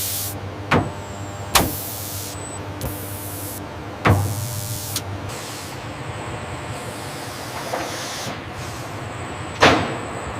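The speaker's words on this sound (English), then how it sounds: "The intake ramp assembly is mounted onto the hydraulic test rig and commanded to cycle through its full range of motion." A Tu-160 variable intake ramp assembly cycles on a hydraulic test rig in a factory. Bursts of hissing alternate with several sharp mechanical clunks and clicks, close and fairly quiet, with no talking.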